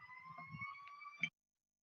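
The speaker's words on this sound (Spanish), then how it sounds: "está pasando un camión de bomberos." A fire engine siren wails steadily as it sits in heavy traffic, a sustained tone held at moderate distance over low background noise before cutting off abruptly.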